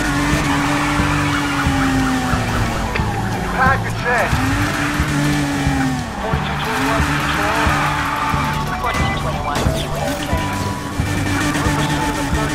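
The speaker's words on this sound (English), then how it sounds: "Some police drifting." A police car drifts in the video game Need for Speed Heat with long, rising and falling tire squeals over a steady engine roar and a wailing siren, while someone talks over it.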